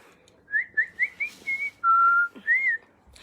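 A person whistles a short tune of about seven notes, mostly quick rising chirps with one longer held tone, clear and close in an otherwise quiet room.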